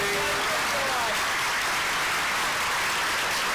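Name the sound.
audience applause at a town hall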